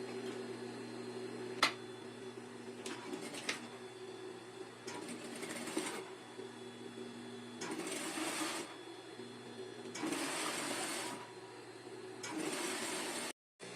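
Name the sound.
sewing machine stitching a folded hem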